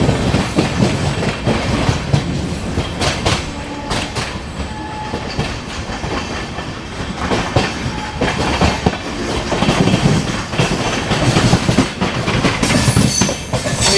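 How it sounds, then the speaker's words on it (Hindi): An AC special train from Delhi to Patna with automatic doors pulls out of Ghaziabad Junction, its wheels keeping a loud, continuous rumble with a rhythmic clickety-clack over the rail joints. No voices are heard. "अभी गाजियाबाद जंक्शन से ट्रेन निकल रही है।"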